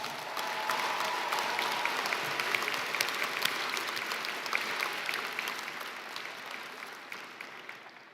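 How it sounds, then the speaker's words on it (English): A large graduation audience at a fall ceremony breaks into sustained, loud applause that holds steady for several seconds and then gradually fades. "give them a big round of applause"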